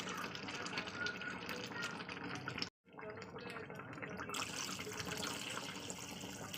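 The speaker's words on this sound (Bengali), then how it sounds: "এবার আমি এতে একটু গরম জল অ্যাড করবো" Hot water poured into a cooking pot of browned, sautéed curry with tomato, a steady splashing pour that runs on with a brief gap partway through.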